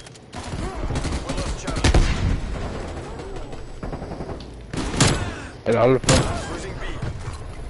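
Rapid game gunfire from Call of Duty Warzone, with bursts of shots and booming impacts at a steady loud level, while a person talks over much of the action.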